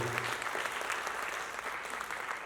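An audience at a live mimicry show claps in sustained, even applause, a dense wash of hands heard from within the crowd that continues unbroken without cheering or talk.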